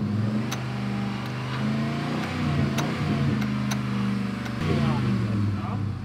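A rebuilt boat engine is cranked by its starter without firing, giving a steady whirring drone with some surges. People talk over it.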